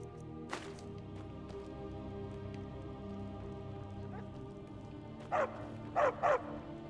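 Dog in the video game Skyrim giving three short, fairly close barks near the end, set against a steady ambient patter resembling rain.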